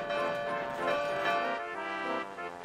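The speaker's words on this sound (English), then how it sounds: "The track was getting bumpier, and the bell chimed louder." Locomotive bell chiming steadily in a cartoon engine race, bright ringing tones sustained throughout, with no talk.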